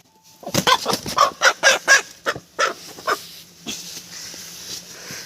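Chickens cluck and squawk loudly in a quick series of calls close by, a rooster's harsh cries among them, fading to softer rustling.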